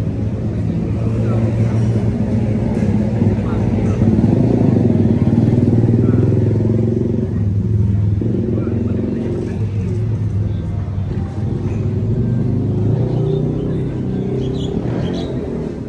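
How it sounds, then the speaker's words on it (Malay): Steady traffic of cars and motorcycles passing along a busy street outside a nasi kandar restaurant in Gombak, Malaysia, a continuous loud rumble of engines with occasional clatter and faint voices mixed in. "Kereta banyak lalu lalang kat sini."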